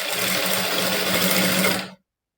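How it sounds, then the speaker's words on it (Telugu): A sewing machine top-stitches over lining fabric on a princess-cut open-back garment, whirring steadily and close for about two seconds before stopping abruptly. "లైనింగ్ పైన టాప్ స్టిచ్ అన్నది వేస్తున్నానండి"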